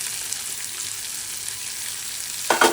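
Small cubes of paneer tipped into moong dal frying in a pan, with a soft continuous sizzle and a louder burst of stirring near the end, close by with no talk.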